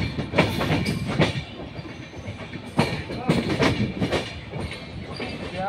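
A special passenger train pulls into Tundla Junction, loud and close, with rhythmic clickety-clack of wheels over rail joints, heavy rumbling and occasional squeals as the carriages roll past.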